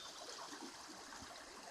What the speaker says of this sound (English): And here it's the river